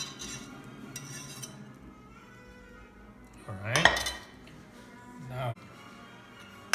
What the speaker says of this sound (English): we have to mix the meringue with it